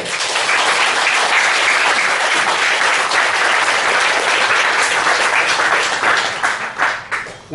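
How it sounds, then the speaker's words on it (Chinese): A concert audience gives loud, sustained applause for an Amis indigenous Taiwanese music group. The dense clapping holds steady before breaking into a few scattered claps as it fades at the end. "掌声鼓励"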